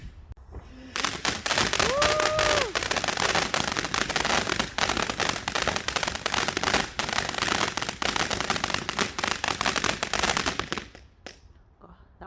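Fireworks going off in a back garden on Bonfire Night, a dense run of sharp cracks and bangs lasting about ten seconds, with a rising whistle early on and excited voices cheering faintly underneath.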